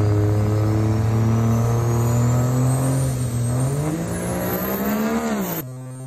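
Lowered truck launching on a drag strip, its engine roaring loud and close in one continuous rising pull that climbs steadily in pitch before cutting off abruptly near the end.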